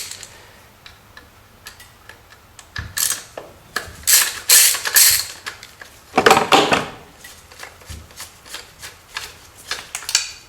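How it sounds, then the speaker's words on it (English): Small metal Torx T25 screws being backed out of the oil pump drive assembly on a 2005 Jeep Wrangler, giving a run of close, sharp ratcheting clicks and taps in irregular bursts with no talking. "we're going to remove these two screws here"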